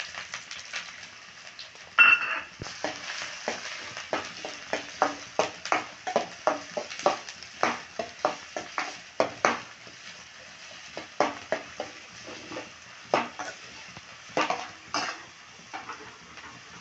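Chopped onions tipped into hot oil in a pan for a savoury dish set up a steady sizzle, broken by repeated sharp scrapes and clinks of a spoon stirring against the pan, close and fairly loud.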